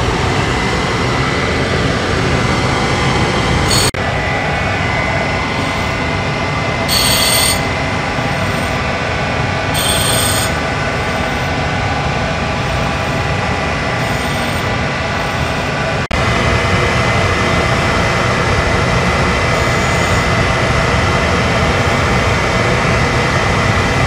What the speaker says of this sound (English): Get my dust collector going.